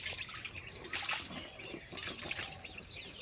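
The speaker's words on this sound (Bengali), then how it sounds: "আমি সিমটা তার আগে ভালো করে ধুয়ে নিই" Flat beans being washed in water make soft splashing and trickling with faint dripping, close but quiet, with no talk.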